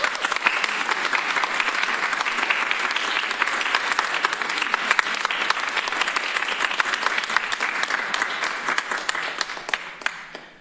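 Audience applause fills a Tompkins County Legislature meeting room, a dense, steady clapping crowd sustained for about ten seconds before tapering off at the end, with no talk over it.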